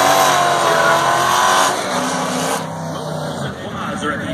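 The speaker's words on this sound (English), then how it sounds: "Big enough burnout" A drag racing car does a burnout at a drag strip, a loud engine roar mixed with tire squeal that drops off partway through, with a voice faintly over the noise.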